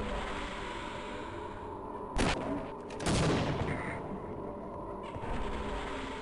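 Gunfire in the Half-Life: Opposing Force video game, two loud bursts of shots near the middle over a steady rumbling game ambience, with quieter noise around them.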